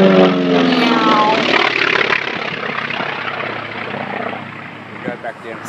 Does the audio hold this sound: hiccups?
no